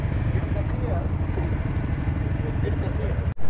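A chopper motorbike's engine roars steadily and close as the rider attempts a wheelie with the rear tyre spinning, then cuts off abruptly near the end.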